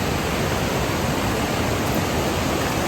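A monsoon-swollen river floods in heavy Konkan rain, making a steady, dense roar of rushing water that fills the whole stretch without letting up.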